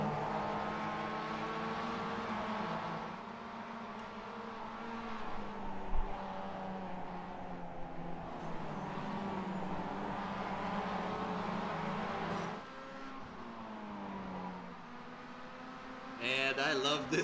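Mazda MX-5 race cars lapping the Belle Isle street circuit, with a sustained engine drone that rises and falls as the cars pass and shift gears, and a faint voice now and then.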